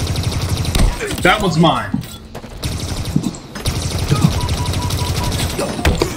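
Gunfire in the Halo Infinite multiplayer video game: dense, rapid bursts of weapon fire that are loud and continuous through most of the moment, with someone speaking over them.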